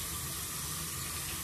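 A shower-proof device rinsed under steady running tap water, a loud continuous hiss of flowing water with no speech.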